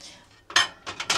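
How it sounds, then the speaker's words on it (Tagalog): Plates and cutlery clink and clatter during dishwashing at a home sink, a short quiet lull followed by several sharp, close bursts of metal and ceramic knocking together. "ako na rin maghugas ng plato"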